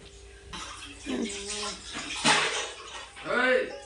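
Water sloshes and splashes as vegetables are rinsed by hand close by, with someone talking over the washing.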